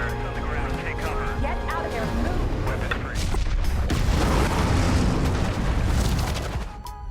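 Bombs dropped from a bomber plane explode in an action film scene, heavy booming blasts and rumbling rolling over one another, loud and dense, with a narrating voice talking over them.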